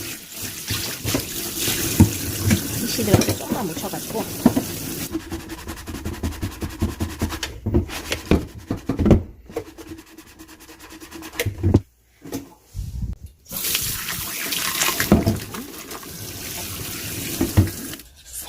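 Water runs from a tap with scrubbing and splashing as an Amway water purifier filter is rinsed, pausing briefly midway, while a person speaks quietly in Korean over it.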